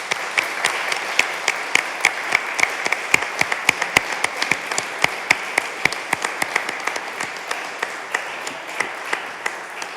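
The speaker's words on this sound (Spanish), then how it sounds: "un aplauso para nuestros invitados" Applause for the guests at a catalogue presentation, sparse individual claps ringing out sharply and close over a steady bed of wider audience clapping, lasting the whole stretch.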